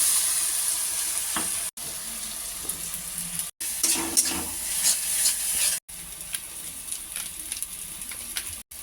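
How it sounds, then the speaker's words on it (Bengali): Potatoes seasoned with salt and turmeric frying in a pan, a steady sizzle broken by brief clicks and stirring scrapes, with a few short dropouts and no one talking. "আলু ভেজে নিচ্ছি"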